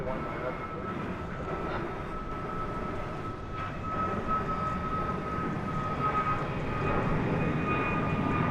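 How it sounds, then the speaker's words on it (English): An Airbus A321 rumbles at DFW Airport at night, a steady broadband engine roar at moderate distance that swells slightly toward the end. "It's an Airbus"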